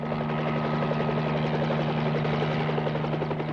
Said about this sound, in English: Helicopters keep watch along the border.